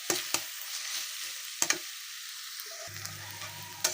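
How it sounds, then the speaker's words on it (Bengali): Onions sizzle steadily in hot oil at a medium fry while being prepared for chicken rolls, with sharp clicks of a spoon stirring through the pan and a low hum entering near the end; no one speaks. "তো এটাকে মিডিয়াম করে ভেজে নেব।"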